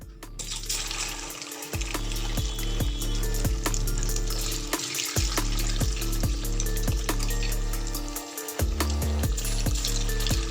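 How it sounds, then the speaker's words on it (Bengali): Potato and semolina pieces sizzle and crackle steadily in hot oil in a kadai, a continuous close frying hiss with small pops, no talking. "তেল গরম হলে টুকরোগুলো ভেজে ফেলুন"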